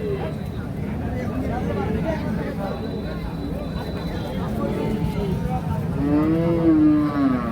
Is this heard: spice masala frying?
no